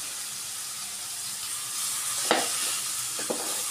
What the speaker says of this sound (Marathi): मसाला छान परतल्यावर आपण त्यामध्ये घालणार आहोत हे फणसाचे गरे